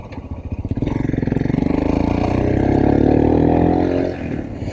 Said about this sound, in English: The bike is a hoot. It's got loads more power than standard.